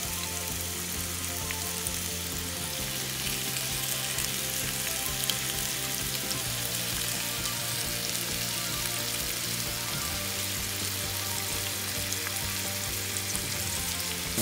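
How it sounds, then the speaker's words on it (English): Fish and shrimp skewers sizzle in a hot, large skillet, a loud, continuous close-up crackle and hiss that holds steady throughout with no talking. "you wanna hear that sizzle. That means the pan's ready to do its job"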